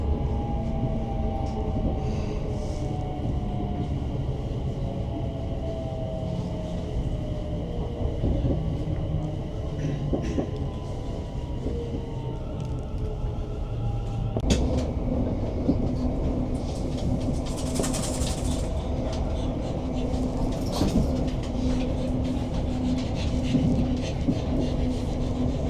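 A four-coach Class 380 electric train on the Glasgow Central to Barrhead line, heard from inside as a steady rumble with rising and falling motor whine and occasional rail clatter, continuous throughout.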